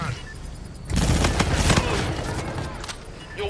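Dense burst of rapid airstrike gun-run fire in Call of Duty, loud and sustained for a few seconds over game sound, with a radio voice heard beneath.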